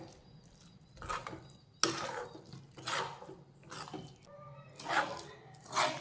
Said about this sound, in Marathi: तर आता ह्याचा छान गोळा होऊ लागलेला आहे तर आणखी एक तीन ते चार मिनटं ह्याला परतून घेऊयात